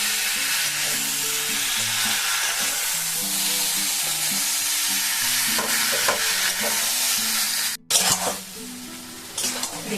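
Mixed vegetable curry with gram flour sizzles loudly and steadily in a frying pan as it is stirred, with background music running throughout.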